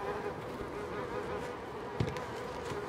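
Flies buzz in Little Nightmares 2, a dense steady drone over a noisy game backdrop, with a brief soft knock partway through.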